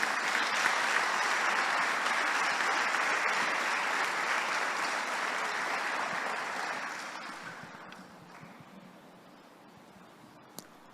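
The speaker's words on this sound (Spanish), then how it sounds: "Dele un aplauso al Señor por esta promesa." Church congregation applauding at a Sunday service, a broad wash of many hands clapping that holds steady, then fades away over the last few seconds.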